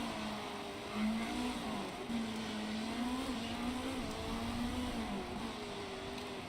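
A GT race car engine in the Motorsport Manager racing video game hums steadily at a fairly low level for several seconds, its pitch gently wavering up and down, with no speech.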